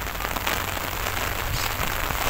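Heavy rain pours steadily outdoors in Madrid, a dense, close hiss of drops hitting surfaces that fills the whole moment without pause.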